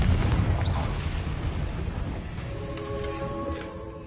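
A Confringo spell explosion in Hogwarts Legacy, heard as a deep, rumbling blast at full loudness that slowly fades over a few seconds, with faint tonal game sounds emerging as it decays.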